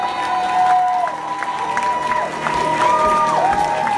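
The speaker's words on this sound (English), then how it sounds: "That's having a huge round of applause for the cast of the unauthorized musical parody of Hocus Pocus!" A theatre crowd cheers and applauds the cast of an unauthorized musical parody of Hocus Pocus. The clapping and whooping are dense and continuous and fill the room without a break, with a sustained tone running underneath.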